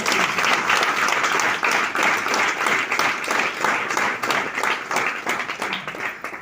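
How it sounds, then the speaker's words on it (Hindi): Loud, sustained audience applause at a workshop, thick continuous clapping from a sizeable crowd that holds steady for several seconds before easing slightly at the end. "अपने लिए कोई जोरदार ताली बजाइए"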